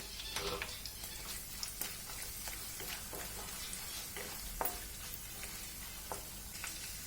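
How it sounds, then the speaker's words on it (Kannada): Cashews, almonds and raisins frying in ghee in a pan, a steady close sizzle with occasional scraping and clicking stirs throughout. "ಗೋಡಂಬಿ ಫ್ರೈ ಮಾಡ್ಕೊಳ್ಳೋಣ. ಗೋಡಂಬಿ, ಬಾದಾಮಿ,"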